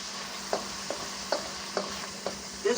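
Chicken blood fries in a pan with a steady soft sizzle while a utensil turns it over like scrambled eggs. About five scraping strokes land at a loose, even rhythm, close by, with no talk.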